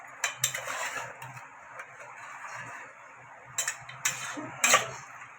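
Mutton curry being stirred in a pot for a spicy village-style goat dish, giving a few sharp metallic clinks and scrapes of a spoon against the pot over a low steady background.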